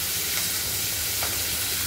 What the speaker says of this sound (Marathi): मग फोडणी टाकायची।